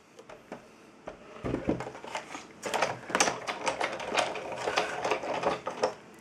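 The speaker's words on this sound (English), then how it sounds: "it goes through the big shot machine" A Big Shot embossing machine is cranked through, giving a close, rhythmic run of mechanical clicks and ratcheting clatter that grows louder after a quiet start.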